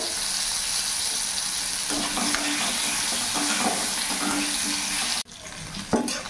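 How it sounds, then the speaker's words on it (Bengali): Potatoes seasoned with salt and turmeric sizzle and hiss steadily in hot oil, with a few scraping stirs; the frying noise drops off sharply near the end. "ওই তেলে এখানে কেটে রাখা আলুগুলো আমি ভেজে নেব"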